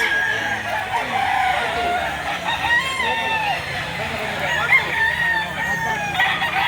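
A medium-sized, nine-month-old rooster crows at an open-air chicken market, heard over a constant din of clucking fowl and background noise, with people talking nearby.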